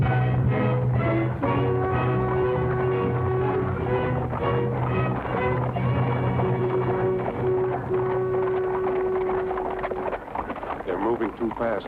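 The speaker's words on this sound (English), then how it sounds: "Horses." Horse-drawn coach on a road in a period action western, a steady clip-clop of trotting hooves under a music score with passing voices, continuous and moderately close throughout.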